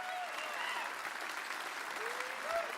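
A convention crowd at a live gaming event claps for a newly engaged couple, a fairly faint, steady wash of applause with a few whistles or cheers rising over it.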